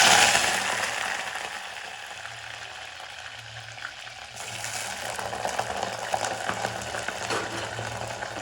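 Eggplant sizzles and crackles in hot oil, a steady hiss with occasional pops, close by and moderately loud, with no talking.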